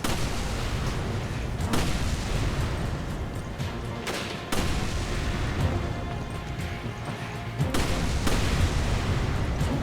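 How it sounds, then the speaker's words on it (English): Explosions and heavy gunfire in the action game Resident Evil 5, loud and continuous, with repeated booming bursts rolling over a dense roar of combat noise. "The explosion effect's quite nicely done."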